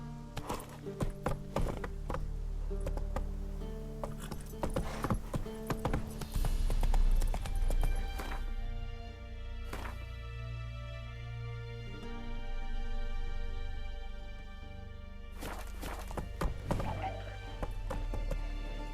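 Horse hooves clip-clop in The Witcher 3 video game, with bursts of quick hoof taps at the start and again near the end, separated by a quieter stretch of ambient game sound.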